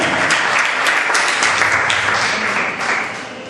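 A church congregation applauds Jesus during a sermon, a full sustained burst of clapping from many people that eases slightly toward the end, with a voice faintly over it.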